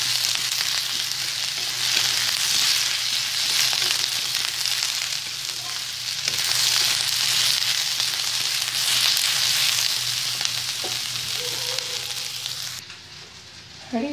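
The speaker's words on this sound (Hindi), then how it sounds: "और फिर प्याज को भूनिए।" Onions frying in a pan while a mixed vegetable and spinach curry is being made, giving a loud, steady, close sizzle that keeps going throughout and eases off slightly near the end, with no voices.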